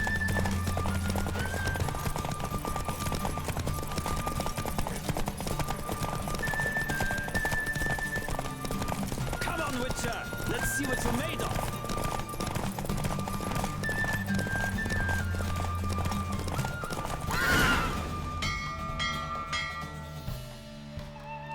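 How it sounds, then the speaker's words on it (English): Horse galloping in a race in the video game The Witcher 3, rapid rhythmic hoofbeats with occasional snorts and a whinny over game music, ending with a bright flourish. "Don't spare the horse."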